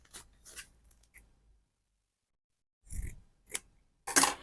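Scissors cutting fabric for trousers, a few short quiet snips and rustles separated by silent gaps, heard close and alone.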